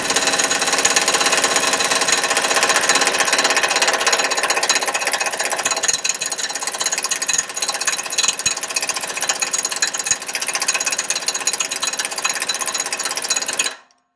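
A Kobalt impact wrench hammers loudly and continuously to break loose a bolt torqued to 1,000 foot-pounds, a dense close-up rattle lasting about thirteen seconds before cutting off abruptly, with no voices.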